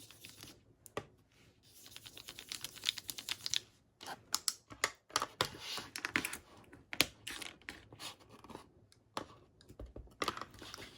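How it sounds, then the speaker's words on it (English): Fingers pinching and lightly rubbing over creased paper in a mixed media craft project, giving a run of soft, close, irregular crinkling and scratchy rustles with brief pauses, no voices. "I'm just going to pinch the paper and just lightly rub over some of those creases"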